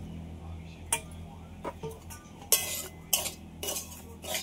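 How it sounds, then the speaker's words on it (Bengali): Semolina coated in ghee is stirred in a kadai, a faint low sizzle under a series of sharp metallic clinks and scrapes from a spoon striking the pan at irregular intervals. "এই সুজিটা একটু লাল লাল করে ভেজে নেব"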